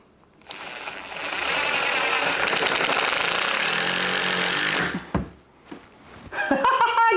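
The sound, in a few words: drill with right angle attachment driving a screw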